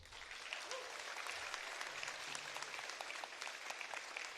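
An audience claps steadily at a Bharatanatyam arangetram, a moderately distant wash of applause sustained throughout at an even level.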